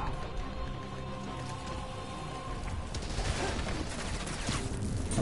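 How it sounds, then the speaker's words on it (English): Enemy gunfire in Spider-Man: Miles Morales, a dense crackle of rapid shots layered over game music, growing busier and louder toward the end. "Another guy's shooting me"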